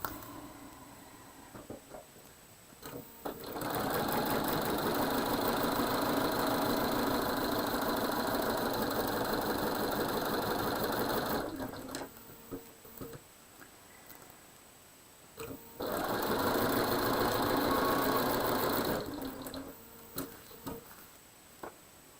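A sewing machine stitches steadily across a quilt block in two sustained runs, each several seconds long, with a fast, even motor hum and rapid needle chatter. A short pause separates the runs, and the sound is close and fairly loud.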